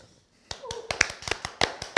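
A few people clap unevenly at a small online bootcamp session, a dozen or so sharp, close claps scattered irregularly across two seconds, with faint talk beneath.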